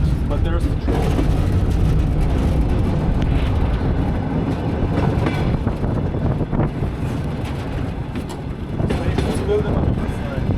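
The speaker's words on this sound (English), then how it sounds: "but there's the train." Train running along the rails on a ride toward Mongolia, a loud continuous rumble heard close, with wind buffeting the microphone and people talking over it.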